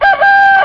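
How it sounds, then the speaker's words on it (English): A rooster in a farm tycoon video game crows loudly at daybreak, one sustained, strident call rising and holding steady, close and alone. "the roosters are crowing"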